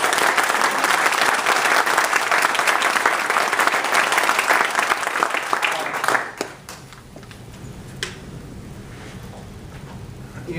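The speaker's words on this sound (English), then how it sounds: "Let's give him a big round of applause." Loud, dense applause from a political event audience greeting a Missouri congressman fills the room for about six seconds, then drops off sharply, leaving a few stray claps and quiet room noise.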